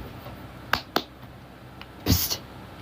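Sharp hand claps made to get a pet bunny's attention indoors, two quick close claps followed after a pause by a longer clap pair, with no talk.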